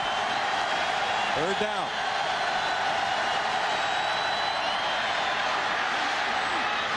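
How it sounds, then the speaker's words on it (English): A college football stadium crowd at a 1999 Tennessee vs Arkansas game roars in a loud, sustained wash of noise while a commentator talks over it. "Listen to this crowd."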